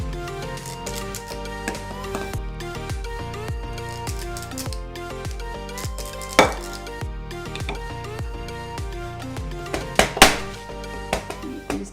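An ice cream scoop drops gingerbread muffin batter into a metal muffin tin, giving a quick run of light metallic clinks, taps and scrapes, close and fairly quiet, with a few sharper knocks near the end.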